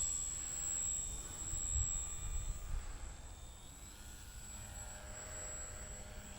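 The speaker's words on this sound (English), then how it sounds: "It's a very slow plane." Slow radio-controlled model airplane flying low over a grass field, a faint steady motor drone held at a distance throughout, with no talk.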